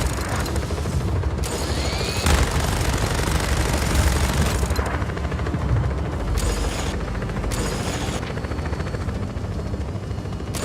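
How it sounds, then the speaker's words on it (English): An enemy helicopter in the Just Cause 4 video game, its loud rotor chop and mechanical clatter steady and close throughout, with gear-like ratcheting and bursts of game action mixed in. "Enemy air unit detected."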